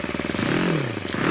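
Rebuilt Yamaha FZ6 motorcycle engine revving sharply, the pitch rising and then falling back as the throttle snaps open and closes, close and loud, with no voices.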